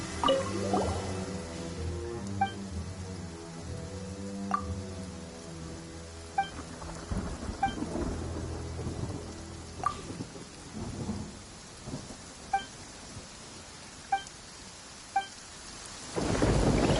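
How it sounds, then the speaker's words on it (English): Thunder and steady rain in the stormy Inazuma region of Genshin Impact: heavy rainfall hisses and patters throughout, with low rolling thunder and several sharp cracks spread across the clip, swelling loudest at the end. "Weather is a hindrance. The thunder drowns out all other sounds"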